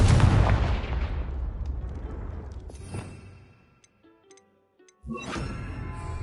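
A Confringo blasting spell explodes in Hogwarts Legacy: a loud, close boom opens and its rumbling tail decays over several seconds, thinning to near quiet before a second burst of noise returns.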